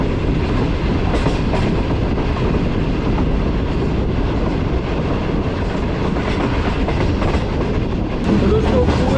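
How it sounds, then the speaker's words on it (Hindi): Shalimar Express passenger train running at speed through Sadiqabad, a loud, continuous rush of wheels and carriages with steady rhythmic clatter over the rails, heard from on board throughout. "हमारी ट्रेन वो एंटर हो चुकी है सादकाबाद शहर में और स्टेशन को काफ़ी अच्छी स्पीड में स्किप करने जा रही है"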